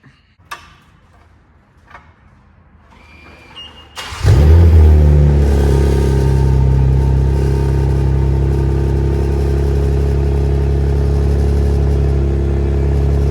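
A few clicks, then a BMW G80 M3 engine with a modified exhaust cranks and catches with a loud roar, settling into a steady, rumbling idle that holds to the end.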